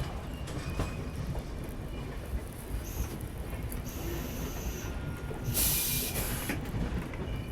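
A passenger train passing alongside a moving Dhauli Express coach in India, a continuous rumble and rattle of wheels with a brief hissing squeal, heard from inside the carriage.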